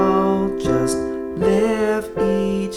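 Piano chords for the children's song Little Drops of Water, struck in a steady quarter-note pulse with each chord ringing into the next, clear and close with no talking.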